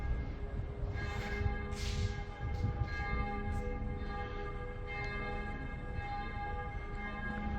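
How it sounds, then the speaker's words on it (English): Church bells ring in Jerusalem at night, sustained metallic tones layered over a steady background hum, heard from a distance with several strikes. "Oh, I can hear the bells."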